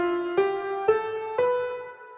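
Piano sounding white-key tones one after another, three struck notes each ringing briefly before the next, close and quiet with no voices.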